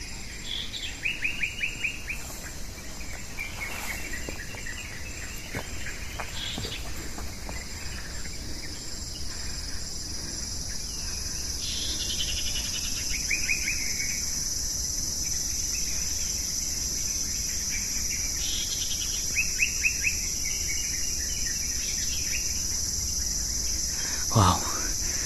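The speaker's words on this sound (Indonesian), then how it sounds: "yang kita dengar adalah kicauan-kicauan burung pegunungan ya" Mountain birds chirp and trill in repeated short bursts against a steady insect-like hiss outdoors near a hilltop palace, bright and moderately close, continuing for the whole stretch.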